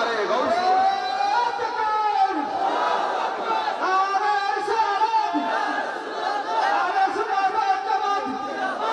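A large crowd at a Bangladeshi waz religious gathering chants the slogans Nara-e-Takbir and Nara-e-Risalat, rhythmic shouted call-and-response voices carried over a microphone, loud and continuous.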